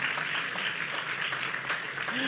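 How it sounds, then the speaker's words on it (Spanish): A church congregation claps together in steady, dense applause for a short moment, somewhat distant, with a voice speaking over it. "Dale ese aplauso fuerte al Señor"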